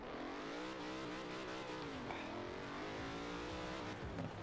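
Aston Martin engine in a racing video game, a continuous revving roar with shifting pitch and a brief tire-squeal-like sweep midway, faint and steady throughout.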